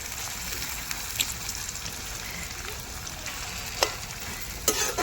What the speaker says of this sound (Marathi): पूर्ण कांदा मस्त असा तळून घेतलेला आहे कांदा